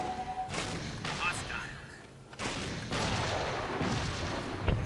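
A brute shot weapon fires in the video game Halo: Spartan Assault, with several heavy booming blasts spaced a second or so apart over battle noise.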